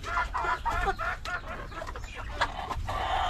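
Decaled Brown and Rhode Island chickens cluck steadily at feeding time, a close, busy overlapping chorus of short clucks and murmurs from a flock.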